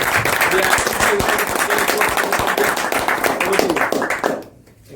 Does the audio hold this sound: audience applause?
yes